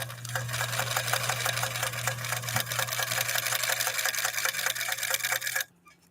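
A 1954 Husqvarna sewing machine stitches at a steady, rapid pace, a close mechanical chatter over a constant motor hum. It runs for several seconds and then stops suddenly.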